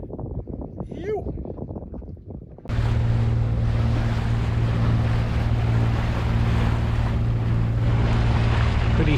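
A sailboat on the open ocean off the East Australian coast near Cape Upstart, with waves and wind. Softer water sounds give way to a loud, steady roar of wind buffeting the microphone over the sea.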